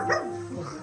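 A pet dog gives a single short bark or yip, close and moderately loud, with a faint background murmur.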